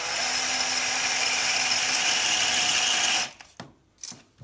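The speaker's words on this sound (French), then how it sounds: "quand on perce avec ce genre de foret diamant, il faut percer lentement et ajouter de l'eau avec" A diamond bit drilling slowly through ceramic floor tile with water added, giving a steady high whirring grind for about three seconds before it stops, followed by a few faint knocks and scrapes.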